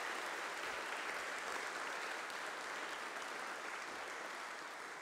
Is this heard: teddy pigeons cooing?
no